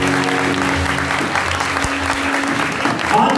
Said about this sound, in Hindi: हमारे जो फादर्स आए हैं उनके लिए भी जोरदार तालियां